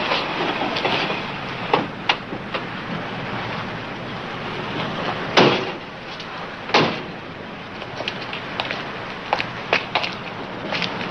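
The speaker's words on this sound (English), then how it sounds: "When's that train getting here?" A train approaches and arrives at a small station stop, a steady rumble with rail clicks and sharp metallic clanks recurring throughout, moderately loud and with no talk over it.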